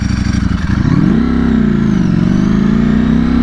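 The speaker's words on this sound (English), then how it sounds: "I love that Ducati sound." A tuned 2020 Ducati Streetfighter V4 with a flashed ECU revs and accelerates up close, its loud, rough engine note climbing in pitch, briefly dipping, then rising again as a continuous growl.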